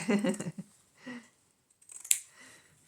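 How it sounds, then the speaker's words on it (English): Scissors cutting through scraps of upholstery fabric, heard as a few soft close snips with one sharper cut standing out, following some quiet talking. "let me see if I can cut straight"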